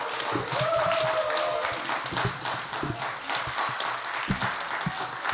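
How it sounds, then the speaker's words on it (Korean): Applause from a church congregation at a Wednesday service: a few seconds of moderately loud, uneven clapping from a modest group in a room, thinning into scattered claps and thuds toward the end. "다시 한번 박수를 보내주시면 감사하겠습니다"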